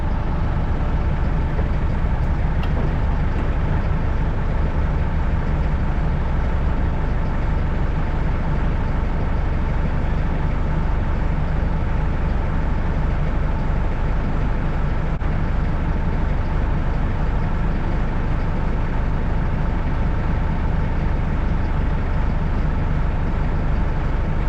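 A farm loader hauling manure drives steadily, its heavy diesel engine droning loud and unbroken at close range with a constant low rumble and whine and no talk.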